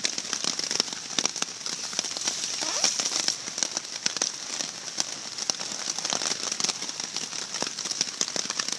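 Steady patter of rain drumming on a DIY hex tarp, dense crackling taps close by with no voices.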